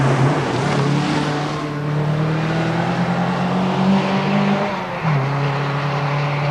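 A Toyota Corolla Group N rally car at the 1986 Circuit of Ireland Rally, its engine holding a loud, steady high drone that climbs slightly before dropping sharply as the driver lifts, heard close and alone.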